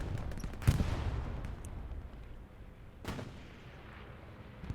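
An artillery strike in the video game Hell Let Loose: two distant booming impacts about two seconds apart roll over a steady, rumbling battlefield background.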